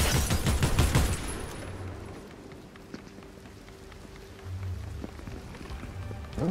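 Rapid bursts of gunfire in Fortnite, loud at first and then thinning out to scattered quieter shots and game effects.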